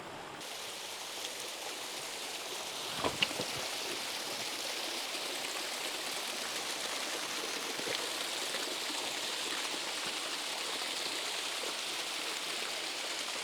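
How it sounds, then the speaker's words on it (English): A small waterfall on a stream of very pure water in the South Wales valleys pours in a steady, close hiss and rush, with a brief thump near the start. "up to really quite an impressive waterfall"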